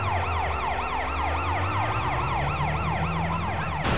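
Police siren in the open-world game Sleeping Dogs, wailing loud and near in a steady rising-and-falling cycle over low engine rumble, with a sharp burst of noise at the very end.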